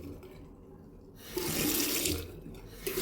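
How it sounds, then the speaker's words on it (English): Water gushes powerfully from a hotel room basin tap, a loud steady splashing rush that swells as the flow hits the sink, close up with no talk. "Nice and powerful water flow there."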